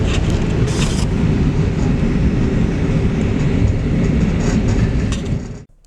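A V/Line N Set passenger train, a veteran locomotive-hauled service more than 50 years old, rumbles steadily along the rails at close range, a loud continuous roar that drops away abruptly at the very end.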